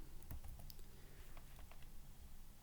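Computer keyboard typing while writing C# code, a faint quick patter of key clicks at close range with no talk.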